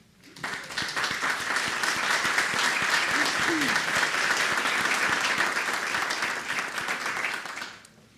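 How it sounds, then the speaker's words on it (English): Dense, steady applause from an audience at a foundation program event on resilient communities, rising quickly, holding for about seven seconds, then fading out with no talking over it. "I'm glad I got an applause too"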